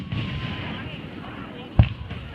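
Fireworks at an evening display give one short, loud thump over background crowd noise and voices, with a fainter pop just after.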